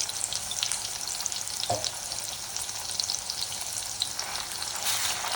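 Black masala paste frying in oil for a chicken curry, a close, steady crackling sizzle with a few spoon scrapes and stirs, no talking.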